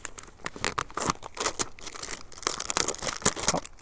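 Labeling and plastic packaging on a survival sewing kit are torn off and crinkled close up, a busy run of ripping, crackling handling sounds lasting several seconds.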